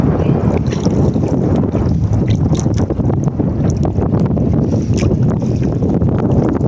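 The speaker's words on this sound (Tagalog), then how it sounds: "Ikot-ikot lang ang bangka." A small bangka boat circles on the water near Virgin Island with a steady engine drone, splashing waves and heavy wind buffeting the microphone throughout.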